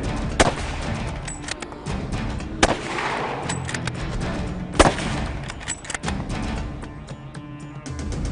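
Rifle shots ring out during a brown bear hunt outdoors, three loud sharp cracks spaced a couple of seconds apart over rustling and wind-like background noise.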